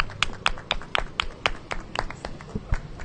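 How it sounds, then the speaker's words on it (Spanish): Scattered claps from a small group at a street protest in Murcia against a wall, sounding as uneven, sparse hand claps at close range over a low background murmur. "un aplauso"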